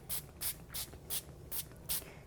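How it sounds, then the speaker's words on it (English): Six short, evenly spaced bursts of Aleene's Fabric Fusion spray adhesive hiss from a nearby aerosol can onto fabric edges, each puff lasting about a quarter second. "I want to make sure that I spray the edges so that it adheres nice and flat"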